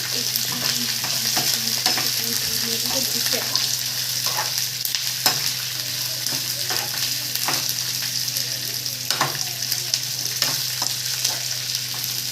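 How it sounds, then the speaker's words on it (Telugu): Cumin seeds fry with garlic in a pan, a steady close sizzle with occasional stirring clinks. "జీలకర్ర ఇది కూడా వేసేసుకొని చక్కగా వేపేసుకున్నాను"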